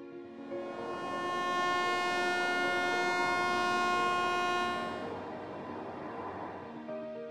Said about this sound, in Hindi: इस बटन को दबाने पर फ्लाइट का अलर्ट सिस्टम चालू हो जाता है और इससे सायरन जैसी आवाज निकलती है।